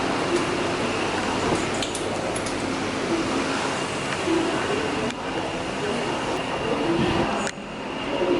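A metro train rumbles through an underground station in China, with a steady hum, clanks and faint wheel squeals echoing throughout.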